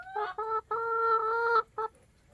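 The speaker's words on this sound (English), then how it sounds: "That's my clarinet chicken." A hen gives a run of honking, clarinet-like clucks in short bursts, loud and close with nothing else around.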